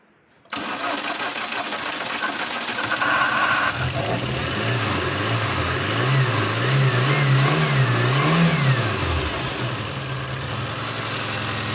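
A LADA Samara 2108 with a seized water pump cranks and catches after a slow start, then idles roughly and revs up and down in a steady rising-and-falling pattern, loud and close with no talking.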